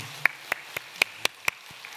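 A church congregation at a Wednesday prayer meeting claps in even rhythm: about six crisp, fairly faint claps roughly a quarter-second apart, with no voices over them.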